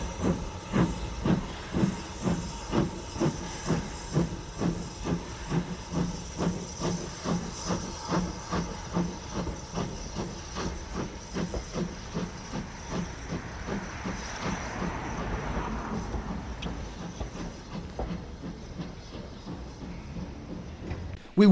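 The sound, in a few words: BR Standard Class 2 steam locomotive 78019 departing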